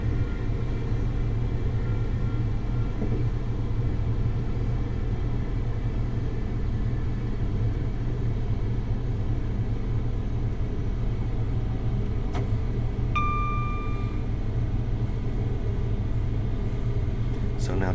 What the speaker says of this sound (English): So now just going to allow the train to coast at 60 miles/hour.